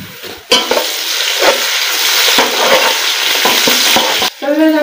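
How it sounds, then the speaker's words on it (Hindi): Garlic-ginger paste tipped into a pan of fried onions and stirred, giving a loud, continuous sizzle with repeated scraping strokes of a spoon against the pan, close up and without talk. "तो भी प्याज हमारी जी फ्राई हो चुके हैं, अब इसमें डालेंगे जी लहसुन अदरक का पेस्ट 2 चम्मच।"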